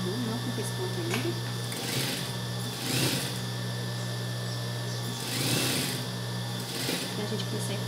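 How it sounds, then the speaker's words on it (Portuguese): A sewing machine runs a straight seam on denim for a children's jeans skirt, with a steady close mechanical whir and rhythmic needle chatter that swells in a few faster bursts. "Passar uma costura reta, com linha comum, não com pesponta ainda."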